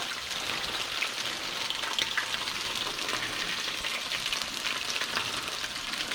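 Sand perch fillets fry in a hot pan, giving a steady, dense sizzle and crackle that holds at an even level throughout, up close and alone with no voices.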